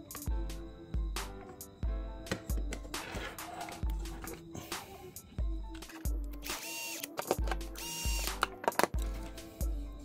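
A small screw is driven into an RC car chassis, an MST RMX 2.0, with a power screwdriver in a series of short, close whirring bursts separated by brief pauses, with some light handling clicks.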